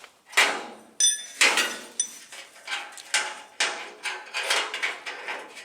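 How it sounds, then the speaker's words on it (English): A Teng Tools quarter-inch socket set ratchet turning a bolt, giving a steady series of sharp metallic clicks about twice a second, close and alone. "turn the bolt with the ratchet on the other side"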